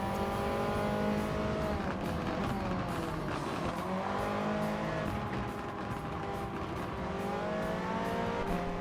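Racing car engines in the video game Gran Turismo 7, a dense high-revving roar with shifting pitch as several cars run together, continuous and loud.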